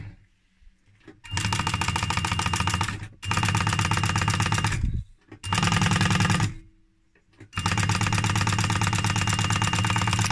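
An industrial sewing machine stitches a clean open seam through leather garment fabric, running in four loud, steady bursts of rapid mechanical whirring separated by brief pauses.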